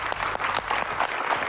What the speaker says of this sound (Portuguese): Um aplauso para Tiago Cavaco.